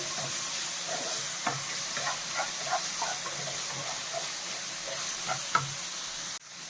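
Stuffed capsicum filling frying in a pan, a soft, steady sizzle with repeated light scraping knocks from stirring, fairly quiet and close, cutting off abruptly at the end.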